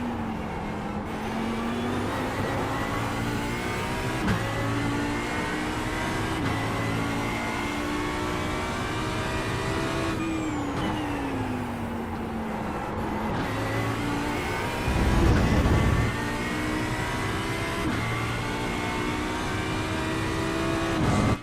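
Race car engines roar continuously in a sim-racing game at Sebring, the near car's engine revving and shifting up and down through gears while other cars pass close by, with no talk over it.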